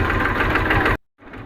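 A tractor engine idles in a farm field with a low, pulsing mechanical rumble. The sound is loud and close and lasts about a second before stopping abruptly.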